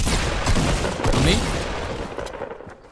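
Rapid gunfire in a Fortnite battle, a dense rattle of overlapping shots with a few louder cracks, with voices talking over the clatter.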